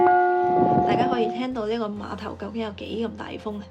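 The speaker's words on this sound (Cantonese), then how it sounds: "仲有一個俾遊客敲嘅鐘，" A tourist strikes a bell on the pier at Southend-on-Sea, leaving a clear ringing tone that fades as a person starts talking over it.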